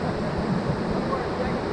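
Whitewater rapids on the Ocoee River churn in a steady, dense rush of water that fills the whole clip with even, unbroken roar, with no clear voices over it.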